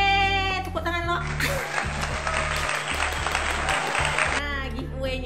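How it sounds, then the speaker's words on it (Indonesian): Burst of applause in a beauty product unboxing and giveaway announcement, dense clapping sound lasting a few seconds over a backing music track, with voice and music before and after. "Yeay, tepuk tangan lo."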